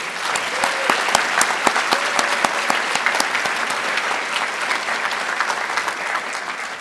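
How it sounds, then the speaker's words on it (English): Steady applause from an audience honoring students at an evening academic excellence event, a dense wash of clapping with a few sharper individual claps standing out, sustained throughout. "Let's give them another round of applause,"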